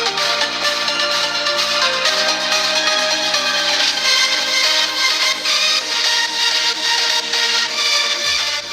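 Loud, full music playing steadily from a Sego S25 smartphone's small dual stereo speakers, bright and continuous with a dense beat, no voices.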